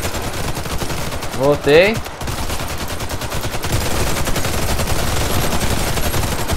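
Gunfire in the zombie mode of the video game Warface, a dense run of rapid shots continuing through the clip, with a brief voice speaking early on over the shooting.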